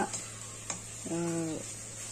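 Peanut paste sizzles softly in hot oil tempering while it is stirred, with a couple of light utensil ticks over a steady frying hiss.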